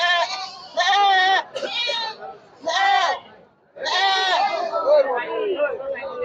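Black Bengal goats bleat loudly and repeatedly up close at a goat market, their wavering cries overlapping with background chatter.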